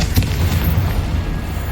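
A Confringo blasting spell explodes in the video game Hogwarts Legacy, a deep booming burst with low rumbling that carries on briefly afterward.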